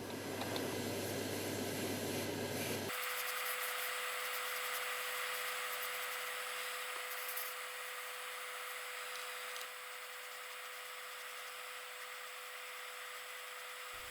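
Radome tan enamel sprayed from an airbrush over the top areas of a 1/35 scale Bronco Staghound model, heard as a steady, close hiss with a brief louder burst at the start before it settles into an even, constant stream.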